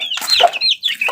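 Pet chicks give several bright, high, close chirps and clucks in quick succession, loud and unaccompanied.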